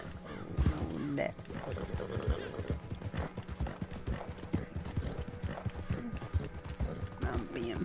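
Horse hooves clip-clop at a fast gallop in a PS4 video game, a steady rapid rhythm of close, fairly loud hoofbeats running throughout, with people talking over it.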